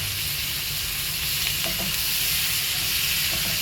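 Onions with a little sugar and boiled chana dal sizzle steadily in a hot pan while being stirred, a continuous close frying hiss with faint scraping of the spoon, no voices.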